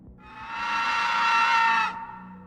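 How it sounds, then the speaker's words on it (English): A piercing female scream used as a sound effect in a horror narration, rising quickly into a loud, sustained shriek for about a second and a half before cutting off abruptly. "She sent a piercing scream at me, then she was gone"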